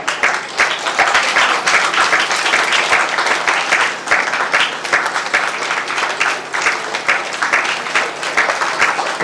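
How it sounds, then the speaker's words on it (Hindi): An audience at a Good Friday church gathering claps for two children, sustained loud applause with distinct individual claps that swells and dips slightly over several seconds. "इन दोनों बच्चों के लिए जोरदार तालियां"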